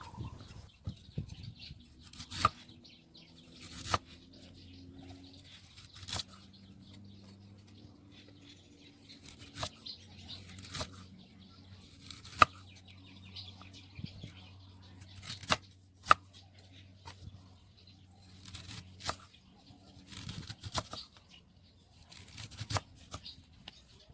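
A knife cuts peeled ginger into large, long pieces, with sparse, sharp chopping clicks spaced irregularly over a quiet background.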